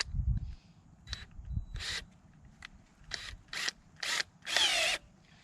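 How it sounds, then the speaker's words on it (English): Several short bursts of a power drill with a 5/16 inch nut driver tightening a clamp, each under a second, with pauses and low clattering between them, close by. "Use your handy dandy drill with a 5/16 inch nut driver and secure it."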